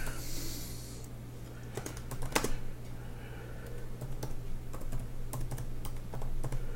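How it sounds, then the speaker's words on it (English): Keyboard typing picks up in short clicky bursts, fairly close and moderately quiet, with a steady low hum of room background underneath. "And then I just start typing whatever I want to put in there."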